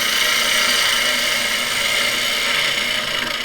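Turning tool cutting a wooden bowl on a lathe, a loud, close, continuous hissing scrape with a steady spinning drone underneath and no talk.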